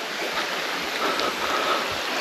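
The Svirka river in a mountain gorge near Lazarevskoye, Sochi, running as a small quiet stream, a close, steady rush and babble of water without break.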